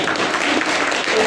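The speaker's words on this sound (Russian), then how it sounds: "так может тут похлопаем" A brief, loud burst of audience applause at a panel event with government public-page ambassadors, dense clapping filling the room for just over a second.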